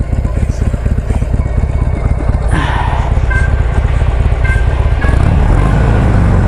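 A Harley-Davidson Sportster engine with its original exhaust pipes idles loud and close in a steady low rumbling throb. A voice is heard over it.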